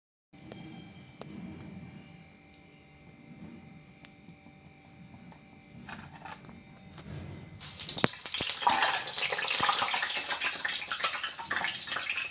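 Mullu murukku and thenkuzhal murukku dough pressed into hot oil. A low, quiet hum gives way partway through to a loud, bright, crackling sizzle that builds and keeps going to the end, with no talking.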